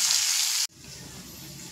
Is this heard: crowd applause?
no